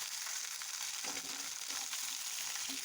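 Jujubes fry with whole five-spice seeds and chopped dried chilies in a pan for pickle, giving a steady close sizzle with soft stirring underneath and no voices.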